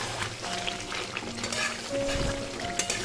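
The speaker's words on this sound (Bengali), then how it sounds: "গ্যাসের ফ্লেমটাকে এরকম হাইতে রেখে ঢাকা ছাড়া আমি আরও 1-2 মিনিট মতো কষিয়ে নেব" Chicken bhuna masala with yogurt and tomato sizzling uncovered in a pan over a high gas flame, a steady close frying hiss with occasional stirring scrapes and clinks, no talking.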